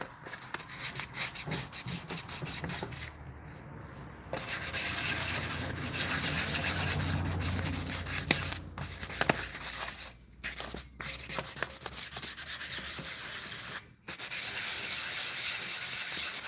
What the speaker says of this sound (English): So the best thing to do here is to rub it as flat as we can get it for the meantime